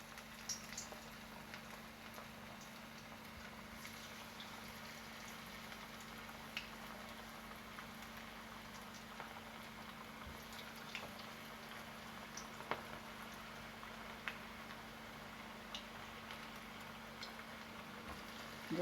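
Cabbage manchurian balls fry in hot oil, a quiet, steady bubbling hiss with scattered tiny pops that continues evenly throughout without any talking.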